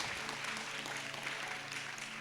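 A congregation claps together at a fasting prayer service, a steady dense wash of applause filling the whole stretch at moderate loudness with no pauses.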